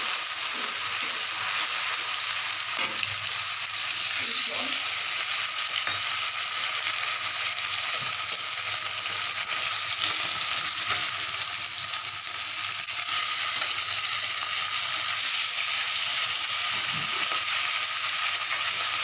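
Mustard seeds, poppy seeds, panch phoron, radhuni and bay leaf with milk sizzle loudly in a pan, a steady close frying hiss with faint stirring scrapes and no voices.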